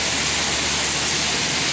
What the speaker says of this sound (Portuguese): isso aí tá chovendo também